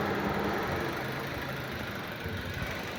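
A second-generation Toyota Vios engine misfiring at idle, a steady low rumble with uneven, stumbling pulses, close and fairly quiet with no talk.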